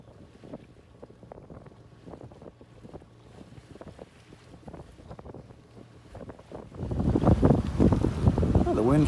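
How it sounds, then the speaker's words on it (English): Wind rushes past a sailboat heading to the Isle of Mull in Scotland, at first a low gusty buffeting with knocks and a faint hum, then swelling into loud, roaring wind noise over the last few seconds. "the wind finally picked up about 3:30"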